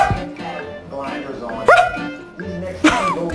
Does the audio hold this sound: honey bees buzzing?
no